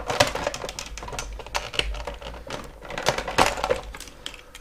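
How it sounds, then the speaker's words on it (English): A plastic body panel being pried off a TGA Breeze mobility scooter, giving a run of close, sharp clicks and rattling snaps in irregular bursts, with no talking. "I can remove this panel"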